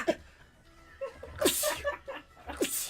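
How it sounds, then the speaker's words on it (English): A single sharp sneeze bursts out close by during a lively birthday livestream, followed by laughing and chatter from several people. "I had to sneeze."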